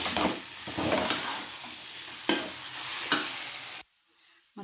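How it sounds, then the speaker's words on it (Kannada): Potatoes are stir-fried in oil in a pan, a steady sizzle with scraping stirring strokes throughout, stopping abruptly near the end. "ಚೆನ್ನಾಗಿ ಇದನ್ನು ಕೂಡ ಆಲೂಗಡ್ಡೆನ ಎಣ್ಣೆ ಬಿಡುವವರೆಗೂ ಹುರ್ಕೋಬೇಕು ರೀ"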